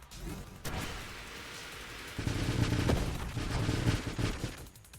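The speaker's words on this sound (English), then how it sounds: "Just launch our missiles now." Missiles launch in the space shooter game Nova Drift as a dense, continuous roar of rapid-fire blasts and booms that swells louder midway and fades at the end.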